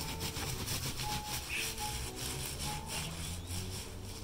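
Wet felt is rubbed briskly back and forth on a sushi mat during wet felting, producing a continuous close scratchy swishing friction with a steady rhythmic pulse and no talking.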